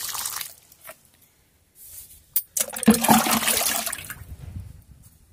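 Water poured from a half-filled mug onto potted rose and chrysanthemum plants splashes and gurgles in two bursts, the second longer and fuller, with a quiet gap between them.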